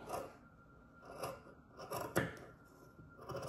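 Scissors snip through scarf fabric folded in half, several separate crisp cuts at an uneven pace, close and fairly quiet with faint rustling between them.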